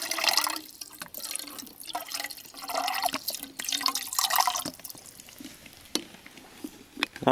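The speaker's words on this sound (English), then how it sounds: "Putting in a little water in here." Water poured into a camping pot outdoors, about half a cup, with close trickling and dripping sounds that come in short bursts and splashes.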